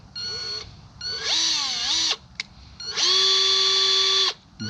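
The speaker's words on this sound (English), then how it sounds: "now what I'm going to do is drill some pilot holes in this" Power drill boring pilot holes in a shelf, a near, loud whining motor in three separate bursts with the pitch rising and falling as it spins up and slows.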